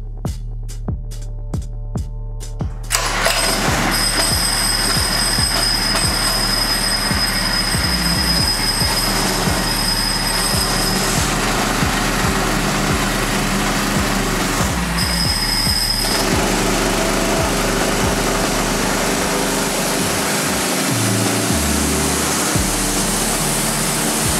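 A Predator 212 small engine fitted with a stage one performance kit runs on a dyno. A few soft clicks come first, then it roars up loud and steady with a rhythmic pulsing drone and shifts near the end.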